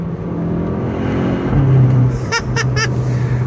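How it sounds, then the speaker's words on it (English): Volkswagen GTI accelerating hard through the gears, a steady engine drone rising in pitch with a brief dip where a quick shift happens, heard from inside the car with no talk. "I'm driving the GTI here. I have to say, holy shit, this thing pulls hard."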